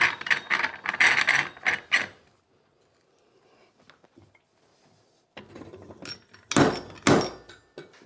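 A threaded Nill post is screwed down into a bracket, giving short ratcheting, grinding metal turns in two bursts separated by a quiet pause, close and fairly loud.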